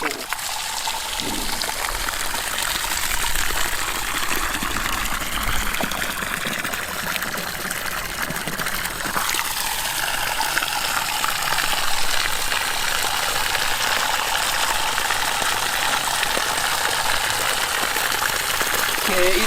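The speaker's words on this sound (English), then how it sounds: "This kind of project we call free energy water pump." Water gushing strongly from a homemade free-energy pump drawn from a deep old well, a steady broadband rush that holds for the whole stretch with no break.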